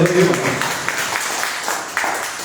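A church congregation applauds during a morning worship service, a moderate wash of many hands clapping with voices mixed in.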